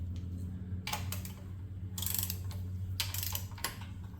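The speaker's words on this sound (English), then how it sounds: "Now we can torque the pump down." Torque wrench ratcheting while torquing down the pump on a High Output Quad 4 engine build, several short, faint clicking bursts at irregular intervals over a low hum, with no talking.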